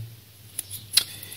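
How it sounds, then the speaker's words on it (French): Scissors snipping the fins off a fish, two short sharp cuts about a third of a second apart, close and clear over a low steady hum. "il faut que vous coupez les nageoires qui sont là"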